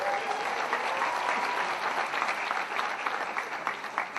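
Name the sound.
audience applause for film students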